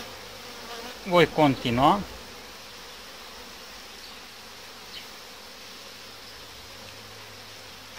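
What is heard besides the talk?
honey bees buzzing at the hive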